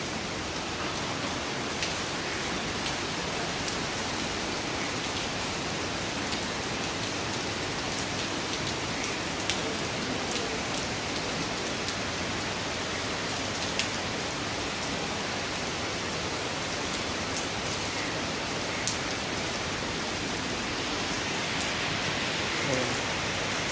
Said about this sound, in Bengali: বৃষ্টি পড়ছে ভয়ঙ্কর